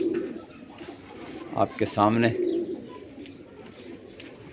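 A Teddy breed pigeon coos softly in a short throaty burst while a person talks nearby.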